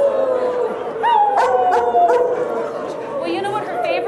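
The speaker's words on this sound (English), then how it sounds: "That's not really singing. That's more barking." A dog barks and yips on stage at a 2014 talent show, short sharp barks mixed with whimpery sounds under a person talking over a noisy room.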